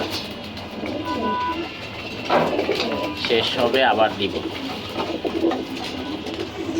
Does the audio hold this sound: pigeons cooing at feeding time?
yes